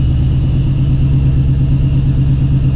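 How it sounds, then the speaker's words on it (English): Ford Coyote V8 Mustang with a ghost cam, idling in reverse under light clutch load, a loud steady low rumble that runs smoothly with no talk. "Ease off the clutch a little bit, add a little load to the engine. See, it smooths right out."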